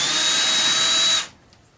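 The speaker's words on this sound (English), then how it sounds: "all I got to do is pull these 2 screws out" A power drill backs screws out of a furnace being scrapped for copper, one loud, steady high whir lasting just over a second before it cuts off abruptly.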